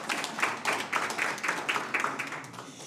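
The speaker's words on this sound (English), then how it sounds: "can we please give them another warm round of applause" Warm round of applause from the audience at a youth entrepreneurship skills programme launch, a steady run of moderately loud claps that taper slightly toward the end, with no voices over it.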